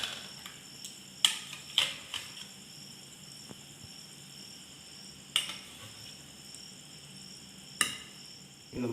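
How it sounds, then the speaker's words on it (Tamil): KFC-style chicken pieces coated in masala deep frying in hot oil, a soft continuous sizzle with a few sharp clinks and pops from utensils and pan, close and fairly quiet. "முதல்ல ஒரு 4 பீஸ் நம்ம ஃப்ரை பண்ணிக்கலாம்."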